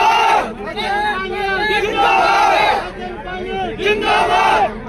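A large crowd at a statue unveiling for martyr Naik Kuldeep Singh shouts and cheers loudly for Sachin Pilot, with voices rising together in repeated chant-like bursts and a brief dip between them.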